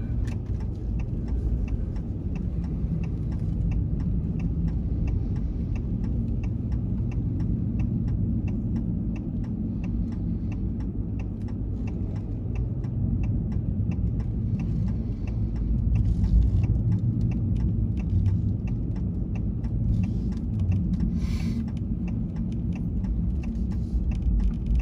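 A snow-clearing vehicle works along a snowy rural road, producing a steady low engine rumble that holds for the whole stretch, slightly louder toward the middle.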